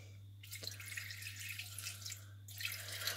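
Water pouring from a tap into a Thermomix bowl to make protein water, a quiet splashing trickle that starts and stops in two short bursts over a low steady hum.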